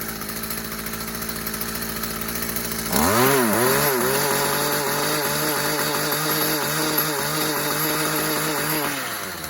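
A Stihl HL45 trimmer's small two-stroke engine idles roughly and stumbles a little, then revs up sharply and warbles at high speed while warming up, close and loud, with no talk.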